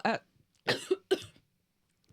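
A short cough followed by two more quick coughs, close and dry, with a brief voiced sound at the end.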